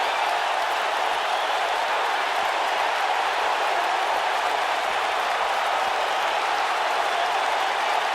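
Dense, steady crowd noise from a WWE 2K19 video game wrestling arena during a triple threat TLC match, with the roar and applause loud and continuous throughout.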